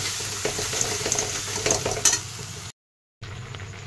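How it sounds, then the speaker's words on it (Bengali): Masala with cashew and tomato paste, salt and turmeric sautéing in a pan, a close, steady sizzle with scraping stirs, cut by a brief moment of silence near the end. "দিয়ে সমস্ত কিছু ভালো করে কষিয়ে নেব।"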